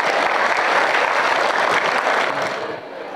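Students at a school assembly at SMAN 1 Kampar Timur break into loud, sustained applause from a large audience, dense clapping that holds steady and then tapers slightly at the end.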